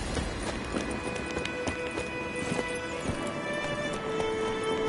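Roach, the horse in The Witcher 3, gallops steadily with rhythmic hoofbeats throughout, over ambient game sound.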